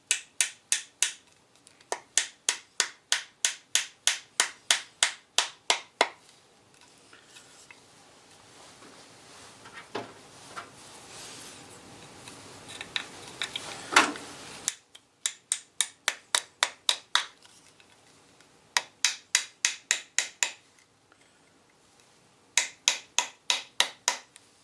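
Mallet tapping wooden dowel rods into a Remington 31 12-gauge shotgun stock, crisp evenly spaced knocks in quick bursts of a dozen or so, separated by a quieter stretch of handling noise.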